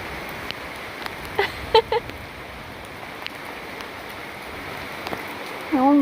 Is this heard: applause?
no